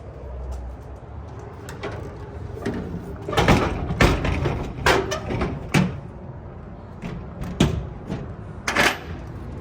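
The escape door of a heavy-duty 2026 Exiss 7020 stock gooseneck trailer is worked open and shut, giving several loud metallic thumps and clanks close by over a hollow background.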